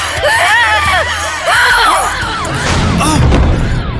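A person screams behind someone in a horror scene at a new house: several loud, wavering shrieks overlap in rising and falling bursts, close and harsh, with a crash-like thump near the end.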